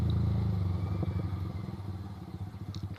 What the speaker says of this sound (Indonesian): Asli adem banget knalpotnya